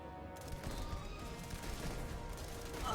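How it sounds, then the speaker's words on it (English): Rapid shotgun fire in the video game Starfield, a quick run of close, punchy shots coming almost like an automatic weapon over a constant low rumble. "this shotgun fires very quickly"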